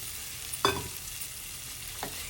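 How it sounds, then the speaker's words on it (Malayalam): Capsicum is sautéed with masala in a pan for a Kerala-style vegetarian lunch, giving two short scraping stirs over a steady low sizzle, heard alone and fairly close. "ക്യാപ്സിക്കം കൂടെ ചേർത്തിട്ട് ഒന്നുകൂടെ വഴറ്റിയെടുക്കാം."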